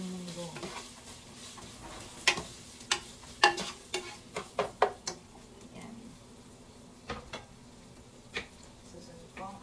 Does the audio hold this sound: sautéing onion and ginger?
yes